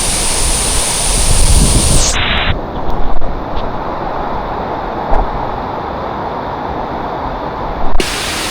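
A broad rush of falling water from a waterfall on Lombok, loud and close, partly muffled after a couple of seconds with wind buffeting and a few bumps, then opening up again.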